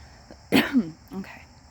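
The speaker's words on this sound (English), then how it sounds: "I need to clear my throat" Someone clears their throat in two short, harsh bursts, the second weaker than the first, close and fairly loud with a quiet pause between.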